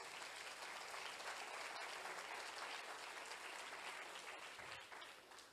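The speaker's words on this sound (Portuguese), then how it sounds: "Aplaude o teu Senhor," A church congregation claps together through a sermon, a dense, steady round of applause holding at an even level before thinning slightly toward the end.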